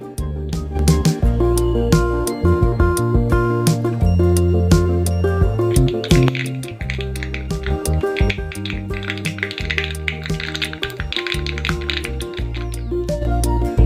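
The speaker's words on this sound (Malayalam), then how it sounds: "ഇനി നമുക്ക് കടുകിട്ട് കൊടുക്കാം." Mustard seeds crackle and pop in hot coconut oil for a raw mango curry, a rapid, irregular burst of sharp little snaps continuing throughout over steady background music.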